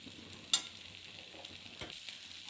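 Sweet potato pieces are stirred into a pan of onions and chilli powder, giving a soft, steady sizzle with a brief scrape and a couple of light knocks, fairly quiet.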